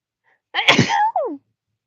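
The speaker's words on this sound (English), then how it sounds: "It was a sneeze." A single sharp, close sneeze bursts out of silence, with a nasal wheezy tail trailing off quickly.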